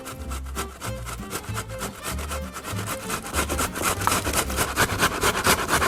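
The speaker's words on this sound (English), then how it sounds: "basically to grate it on the coarse side of a hand grater" A fresh tomato grated by hand on the coarse side of a box grater, producing close, rhythmic scraping strokes that repeat steadily and grow slightly louder toward the end.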